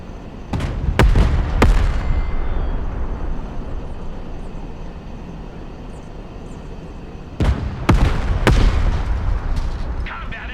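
A gunner opens fire on a target in the Broken Arrow war game: bursts of sharp, loud cannon shots ring out in quick groups at the start and again near the end, over a steady engine and battlefield drone.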